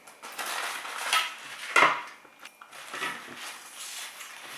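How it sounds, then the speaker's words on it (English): A knife cuts through spinach and feta rolls on a gritty baking tray, giving sharp metallic scrapes and clinks against the tray, several separate strokes with one louder clank near the middle, close by and with no talk over them. "I'm going to cut that on the gritty tray."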